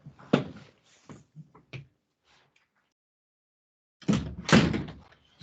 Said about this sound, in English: Hold on, let me shut this door.